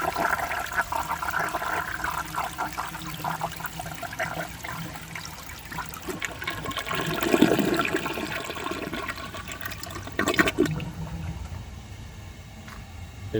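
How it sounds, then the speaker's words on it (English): A 1983 Eljer Hygeian toilet flushes with a steady rush and gurgle of water, swelling into a louder siphon surge midway and a second brief burst later, heard close with no talking. "It passed perfectly with a double siphon and everything."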